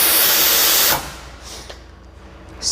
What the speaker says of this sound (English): when you want to release steam continuously, you just take it down